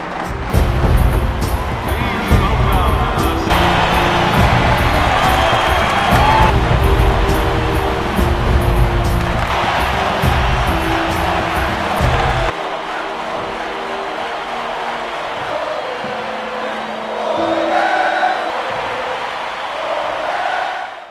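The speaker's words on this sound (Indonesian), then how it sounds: "semua pendukung semakin menggema dan kedua skuad pun mulai memasuki" A large rugby stadium crowd of supporters roaring and cheering, a dense sustained wall of noise that drops to a quieter murmur partway through before swelling again.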